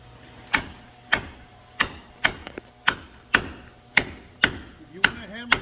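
Iron ore chunks are struck with a hammer during steel smelting, about ten sharp, loud metallic blows at a steady pace of roughly two per second, each ringing briefly before the next.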